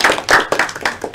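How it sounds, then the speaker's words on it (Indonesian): Several bursts of hand clapping from a small group, quick uneven rhythm, close and fairly loud, with no talking. "Tepuk tangan untuk kita semuanya."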